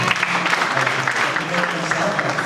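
Church congregation applauding together, a dense steady wash of clapping that carries on unbroken throughout at a fairly loud level.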